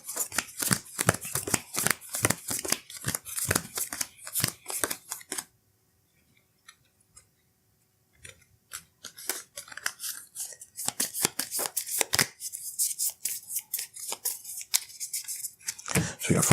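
A deck of cards from the Legendary: Buffy the Vampire Slayer board game is shuffled quickly in close, crisp riffling bursts, with a brief near-silent pause partway through.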